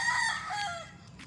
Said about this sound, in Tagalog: mga manok yan sa kahoy, sa taas ng kahoy